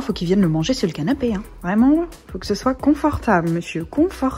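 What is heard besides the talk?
No distinct noise like a dog, phone or traffic.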